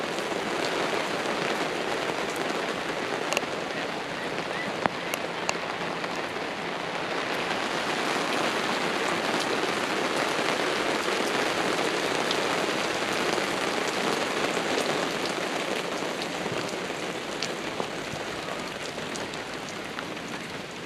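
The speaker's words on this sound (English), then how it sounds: "So we got a little bit of rain at Secret Lake at the moment" Steady rain falls at Secret Lake on Tamborine Mountain, a dense, even hiss of drops on surfaces with occasional louder close taps, continuous for about twenty seconds with no voices.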